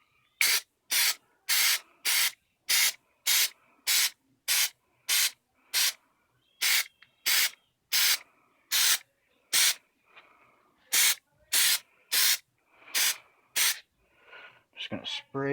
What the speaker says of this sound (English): Just going to spray it